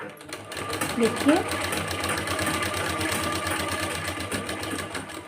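A sewing machine stitches along the edges of fabric, a fast, even mechanical whir that runs continuously after a short start, with a brief spoken word over it.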